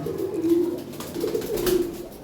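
Lahori pigeons coo in two low, rolling phrases close by, steady and fairly loud, with no talk over them.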